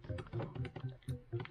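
Computer keyboard keys tap in a quick, uneven rhythm of about seven distinct strokes, close and moderately loud, during a Bee Swarm Simulator game session.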